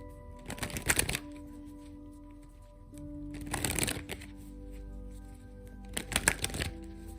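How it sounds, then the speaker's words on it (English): Tarot cards are shuffled in three separate bursts of quick riffling flutter, close and crisp, with quiet pauses between them. "I'm going to pull you some tarot cards."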